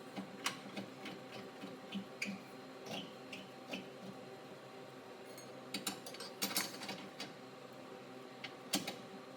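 A front tow hook screwed into a car frame gives quiet, close, irregular clicks and creaks as it turns, with a cluster of sharper ticks toward the end.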